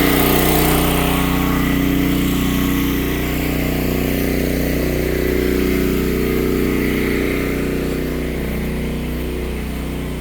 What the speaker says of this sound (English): the air compressor's working